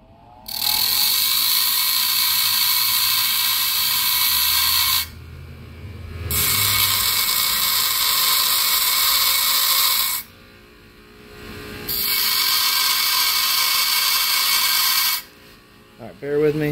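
Power tool grinding down a butter knife, three long, loud, steady whining runs of several seconds each, separated by short quieter gaps, close by.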